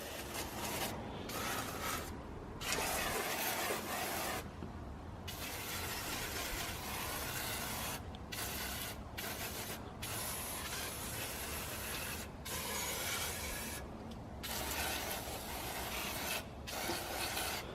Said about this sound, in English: I can probably start spraying some degreaser in here and see how well it works.